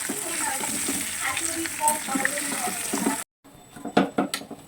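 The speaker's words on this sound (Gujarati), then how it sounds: "જો અહીંયા મેં વઘાર દીધા છે ભરેલા મરચાં" Oil sizzles and crackles steadily for about three seconds as stuffed chillies fry, then a brief silence, followed by clinking and stirring noises.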